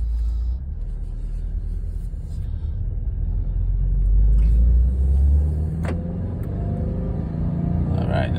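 A 2022 Subaru WRX engine runs steadily with a low rumble, its note rising and swelling to a revving peak midway before settling back, heard close and alone.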